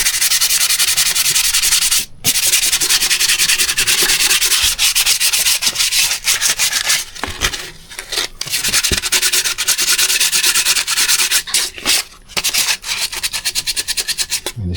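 Close, loud rubbing of 1200 grit sandpaper against a component from a Porsche Boxster M96 engine, worked in quick back-and-forth strokes with brief pauses between bursts.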